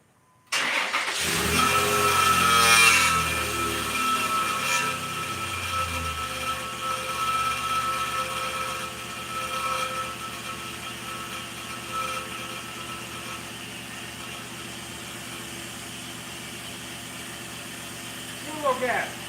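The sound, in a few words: Dodge car engine starting up and idling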